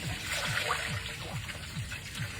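Water pours steadily into a cooking pan for a chicken and sinigang dish, making a continuous close splashing trickle with no talking.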